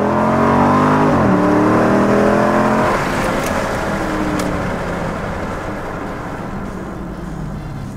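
Car engine revving hard during a burnout through an 8-speed gearbox, loud and close, with rising harmonic sweeps early on that settle into a sustained roaring drone as the revs hold.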